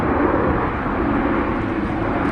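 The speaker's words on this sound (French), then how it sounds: "Again, mid-size plane, medium size." A mid-size plane passes over a bay while lining up to land, its steady, loud broadband roar holding at an even level throughout with no pauses.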